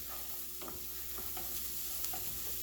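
Rice toasting over very low heat in a pan for mushroom risotto, a faint steady sizzle broken by a few soft stirring scrapes, with no talking.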